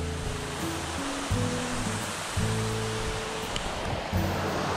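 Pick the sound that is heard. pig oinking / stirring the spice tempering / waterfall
waterfall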